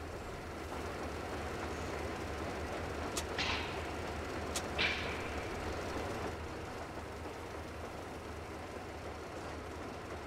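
Train rolling along rails in the post-apocalyptic shooter Metro Exodus, a steady low rumble throughout with two sharp metallic clanks and hisses midway, no voices.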